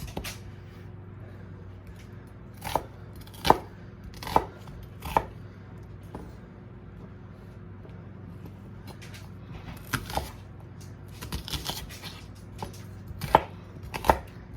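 Knife chopping vegetables for a fall vegetable soup, with sharp isolated board knocks spaced irregularly, some in quick pairs or small clusters, over a quiet room background and no talking.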